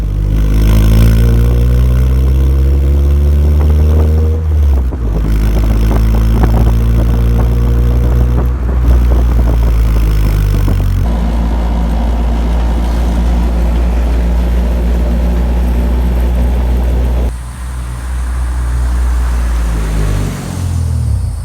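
A Honda Civic fitted with an HKS Hi-Power exhaust drones loud and close, its raspy tone climbing in pitch through the revs, dropping at each gear change and pulling again, continuous throughout.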